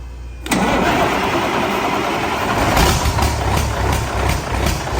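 Caterpillar C15 diesel swapped into a 1988 Peterbilt 379 truck fires up for the first time, a loud sudden catch followed by a rough, heavy, steady idle rumble close by.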